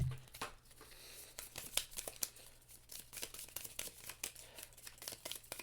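Cards are drawn from a Legendary deckbuilding game deck, heard as soft, close, crinkly slides and flicks of card stock in a run of quiet, irregular rustles and taps.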